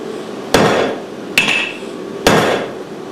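Three separate, sharp hammer blows ring out on a metal tube being forged, each a loud close strike with a short metallic ring fading before the next, about a second apart.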